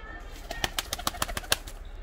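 Pigeons in a pigeon loft that houses breeding pairs and young birds coo close by in a quick series of soft, rhythmic pulses over about two seconds.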